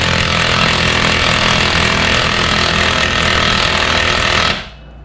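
A pneumatic impact wrench hammers continuously on the lower ball joint nut of a 2014 Jeep Grand Cherokee WK2, loud and close, a steady rattling buzz for several seconds that stops abruptly near the end.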